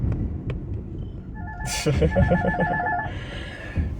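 A phone rings over a low, steady rumble of background noise, its repeating electronic ringtone pulses running for about two seconds, moderately loud.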